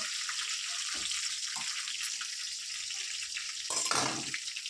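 Crushed garlic and curry leaves fry in hot oil in a pan, giving a steady close hiss with a few louder bursts and light stirring scrapes, without any voices.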